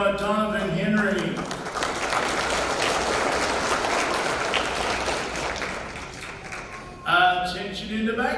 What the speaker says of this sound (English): we'll give him a nice round of applause